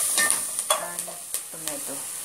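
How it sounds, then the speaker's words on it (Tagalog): Onion and garlic sizzle in a hot pan while being stirred, a continuous hiss broken by several sharp scrapes and taps of the spatula against the pan. "inilagay ko na ang onion and garlic. So I mix it"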